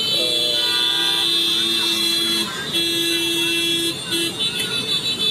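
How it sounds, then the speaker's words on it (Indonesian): Car horns honk repeatedly amid busy street noise in a traffic jam caused by a student protest in Makassar: two long blares, then a short toot, over a constant traffic din. "klakson"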